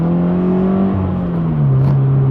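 A Datsun 280Z on new tires pulls slowly under acceleration, its engine droning loud and close as the pitch climbs gradually and steadily, with no talking.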